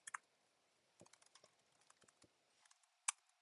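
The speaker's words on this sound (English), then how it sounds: "I'm typing my email." Scattered keyboard keystrokes, a few quick clicks spaced irregularly with a short burst of taps, then one sharper key press near the end, quiet and close.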